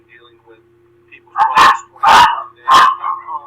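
Three loud, sharp dog barks in quick succession, close by, breaking over a person speaking and a faint steady hum.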